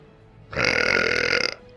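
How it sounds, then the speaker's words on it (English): A single loud, drawn-out burp lasting about a second, rising sharply out of quiet and cutting off abruptly. "It's like there's a burp monster living in my tummy"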